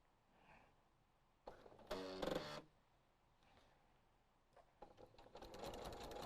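A sewing machine with a walking foot and quarter-inch guide stitching a rag quilt, running in short rapid bursts of mechanical chatter separated by quiet pauses, close and clear.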